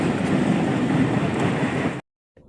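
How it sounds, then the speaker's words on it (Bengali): Steady broadband rumble and clatter of a Pakistani train at a platform of the Howrah rail museum, loud and continuous for two seconds before cutting abruptly to near silence. "এই দেখো পাকিস্তানের ট্রেন আর একটু পরে ছেড়ে দেবে প্ল্যাটফর্ম থেকে।"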